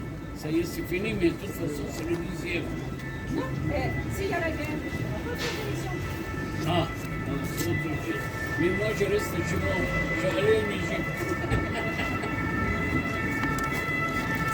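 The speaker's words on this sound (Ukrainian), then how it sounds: "Сирени, знов кортеж, Париж, весь в сиренах." Motorcade sirens wail in the distance over busy Paris street noise and the hum of traffic, with voices talking nearby.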